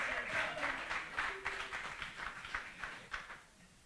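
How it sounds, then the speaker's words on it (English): Audience applause for a performer at a live music event, a steady patter of many hands clapping that fades toward the end, heard alone at moderate distance. "Big round of applause for Jimmy as well"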